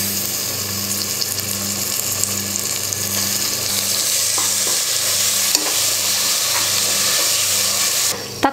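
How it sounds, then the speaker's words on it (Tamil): Chopped tomato sautés with ginger garlic paste in a pan for Ambur chicken biryani, a steady close sizzle with scraping stirs and hissing steam throughout, no voices. "தக்காளி பாருங்க இந்த அளவுக்கு நல்லா வதங்கினதுக்கு அப்புறமா"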